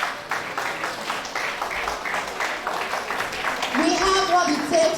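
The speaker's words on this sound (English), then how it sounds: "Round of applause for him, please." A conference audience gives a round of applause, a soft wash of clapping under a speaker's amplified voice that continues talking over it.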